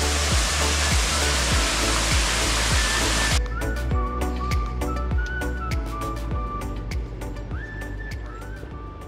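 A loud, steady roar of rushing water fills the first few seconds, then cuts off to a quieter outdoor scene with scattered clicks and knocks.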